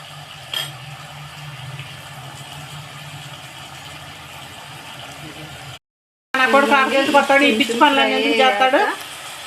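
Mettallu, small dried fish, sizzle in a pan with softened onion and tomato, giving a steady moderate hiss. After a brief silent gap a person talks over the frying.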